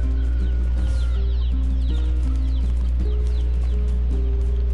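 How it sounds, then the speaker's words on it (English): Chickens cluck in the NieR Replicant video game, small repeated clucks over a loud, steady game music bed and low hum. "Chickens."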